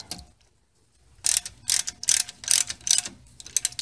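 Ratchet tightening a plastic brake-related part on a 2008 Mercedes-Benz S550 4Matic during front brake work: after a quiet second, six or seven quick bursts of ratchet clicking in a steady rhythm, close and fairly loud, with no talking.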